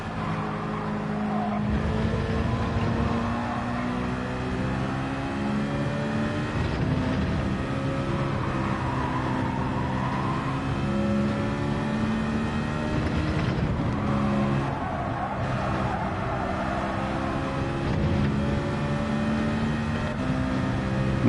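Race cars in a racing video game, several engines droning and whining close together in a pack, pitch rising and falling through gear changes as cars run in slipstream, steady and loud.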